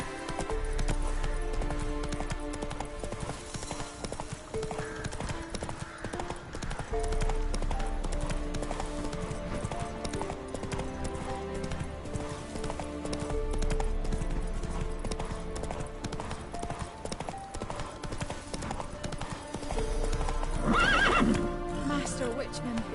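Horse from The Witcher 3 Wild Hunt, hooves clip-clopping at speed and a neigh near the end, continuous over a game soundtrack with voices talking throughout.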